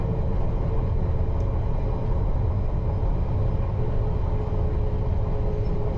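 London Underground Piccadilly line train near Heathrow Terminal 2/3 running uphill, heard from inside as a steady, loud, deep rumble and roar that holds level throughout, with no talking.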